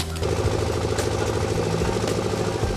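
An engine-driven pug mill runs at a brick kiln, preparing clay with a steady loud mechanical drone and a rapid rattling pulse throughout, unbroken by talk.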